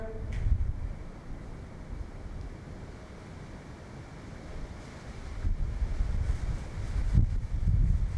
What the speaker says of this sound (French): Tu vois, le vent il se lève.